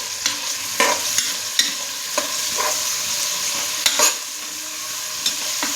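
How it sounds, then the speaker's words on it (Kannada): Onions frying in a pan until browned, a loud continuous sizzle punctuated by sharp spatula scrapes and knocks at irregular intervals, with no voices. "ಈರುಳ್ಳಿ ಸ್ವಲ್ಪ ಕೆಂಪಗೆ ಹಾಕಬೇಕು, ಚೆನ್ನಾಗಿ ಫ್ರೈ ಆಗಬೇಕು."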